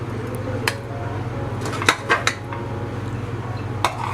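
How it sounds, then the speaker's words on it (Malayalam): Cauliflower curry moved from a pan into a mixer jar, a few sharp metallic clinks and scrapes of spoon on cookware, close, over a steady low hum. "ഒരു മിക്സി ജാറിലേക്ക് ഇത് ഞാനിപ്പം ട്രാൻസ്ഫർ ചെയ്യുന്നുണ്ട്"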